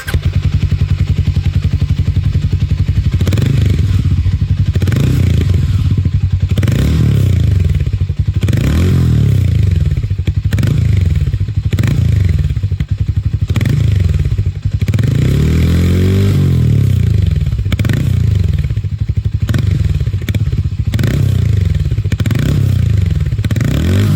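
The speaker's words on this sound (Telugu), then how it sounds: "సో ఇప్పుడు మనం దీని ఎగ్జాస్ట్ నోట్ ఎలా ఉందో ఒకసారి చూద్దాం" Harley-Davidson X440 motorcycle exhaust, loud and close, a steady throbbing idle broken by repeated throttle blips that swell and fall, with some mechanical clatter and no voices throughout.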